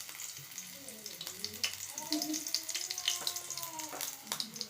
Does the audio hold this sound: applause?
no